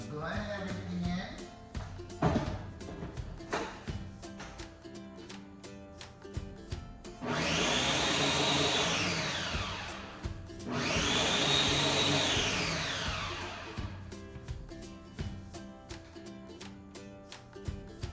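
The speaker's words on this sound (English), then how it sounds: "All right, I'm going to blend everything in." A blender purees split pea soup with broccoli and squash in two loud whirring bursts of a few seconds each, close by, with a person talking in the quieter stretches before and after.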